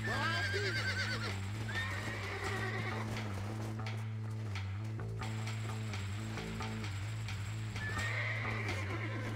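Horse whinnying and clip-clop hooves in the Red Dead Redemption video game, heard over steady droning game music with some talk in the background.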